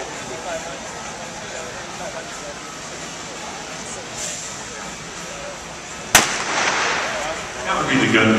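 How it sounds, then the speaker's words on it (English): A starting gun fires once at a track cycling scratch race during the 2010 USA Elite Track Cycling Nationals, a single sharp crack over steady crowd and arena noise, with a commentator talking throughout. "That would be the gun to start the race"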